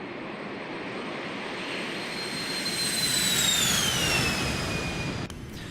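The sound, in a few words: Citation X jet engines climbing after takeoff in X-Plane 12 video game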